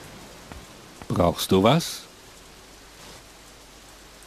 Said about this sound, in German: Wenigstens stehe ich nicht stundenlang im Regen herum.